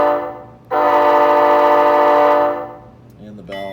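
A model train horn from a Blunami sound decoder blasts once, a loud sustained chord lasting nearly two seconds before cutting off, followed by a brief quieter tonal sound at the end.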